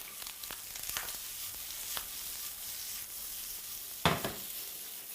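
Tyrolean hash with bacon roasting in a frying pan gives a steady, close sizzle, broken by a brief louder scrape of stirring toward the end, with no voices.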